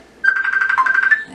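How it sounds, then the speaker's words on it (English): A mobile phone rings in a room during a cardboard-and-fabric bracelet craft session, sounding a steady, rapidly pulsing electronic tone for over a second with no talking over it. "That's my phone."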